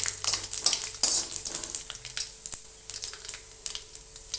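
Mustard seeds, urad dal and chana dal fry in hot oil, with sharp popping crackles and a light sizzle in irregular bursts, close and fairly quiet, with no talk.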